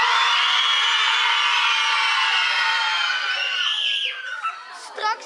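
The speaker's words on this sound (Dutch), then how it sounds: "mogen jullie allemaal heel hard schreeuwen?" A group of children at a school visit from a clown scream loudly together in one sustained, high, piercing shout that fades into scattered cries and chatter at the end.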